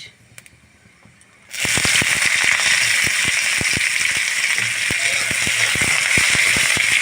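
Chopped onion tipped into hot oil already seasoned with bay leaf and panch phoron for a Bengali rui fish curry with potato, bursting into a loud, steady crackling sizzle after a quiet start, with sharp pops throughout.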